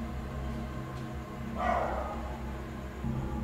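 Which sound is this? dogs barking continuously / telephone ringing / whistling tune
dogs barking continuously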